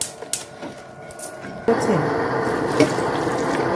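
A quiet start with small clinks gives way to a steady stream of water pouring into a pot of seafood okra soup, close and continuous, with a voice briefly underneath.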